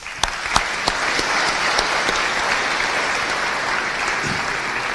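Sustained audience applause fills a hall at a faith gathering, a dense steady wash of many hands clapping with a few sharper claps standing out at the start.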